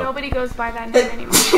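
A sneeze during a nighttime session of the survival game Rust, a sharp burst near the end of the clip, preceded by talking and game sounds.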